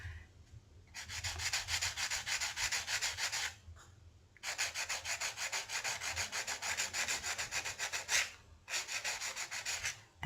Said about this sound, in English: take a little bit of your sanding paper